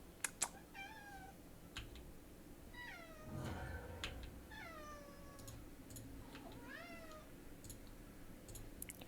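A house cat meows several times in soft rising-and-falling calls close by, over a faint steady background hum with a few clicks, like a keyboard being tapped.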